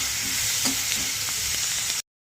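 Pumpkin and fried prawn curry stirred in a sizzling pan, a steady frying hiss with soft scraping strokes of the spoon at irregular intervals, close and alone.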